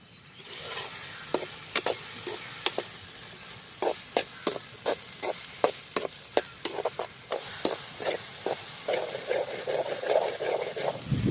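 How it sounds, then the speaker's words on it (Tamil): Onions sautéing in a pan for veg puff filling, a steady sizzle broken by repeated sharp scrapes and clinks of a spoon stirring against the metal, close and fairly loud with no talking. "வெங்காயம் நல்லா வதங்கியாச்சுப்பா."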